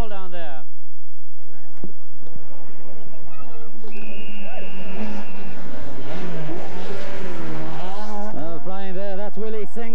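A Ford Escort rally car sponsored by Kent Motor blasts past at speed on a 1989 Carlow Rally stage, its engine loud and rising in pitch over a continuous commentary voice.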